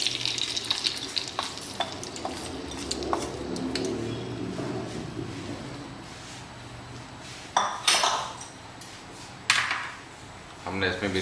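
Chicken pasanda being stirred in a pan after a chilli tadka is added, with the gas turned off. A soft sizzle runs under clinks and scrapes of a spoon against the pot, and a few sharper metallic taps come near the end.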